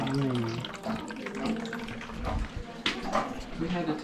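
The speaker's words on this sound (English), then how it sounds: "is draining the water heater" Water drains from a water heater during a change-out, a steady running, splashing flow with talk over parts of it.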